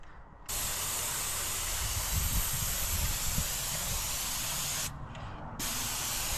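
A paint sprayer hisses in one long continuous burst while coating a garage door, close and loud, cutting off briefly near the end before resuming.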